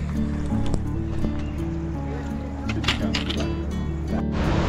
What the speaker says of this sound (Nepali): यसले पानी थाप्नु पऱ्यो अब यार।